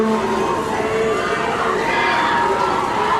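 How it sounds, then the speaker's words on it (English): Spectators at the Royal Canadian Henley Regatta cheer and shout as rowing crews race toward the finish, a loud, continuous roar of many voices with higher shouts rising through it. "The crowd continues to get louder as they enter the final 500 meters."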